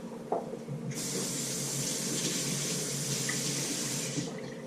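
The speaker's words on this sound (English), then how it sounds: "What I'm gonna do is moisten this cloth a little bit." Water from a tap runs steadily onto a cloth being moistened for wrapping shumai dumplings, a close, soft continuous hiss of flow that starts after a brief quieter moment and stops near the end.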